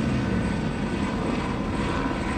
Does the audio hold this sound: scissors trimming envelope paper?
no